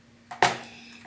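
A knife slicing through a hot homemade apple pie: a faint crisp crunch of crust with a short scrape, one quick cut heard up close and alone.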